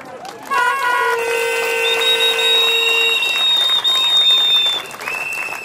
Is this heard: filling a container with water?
no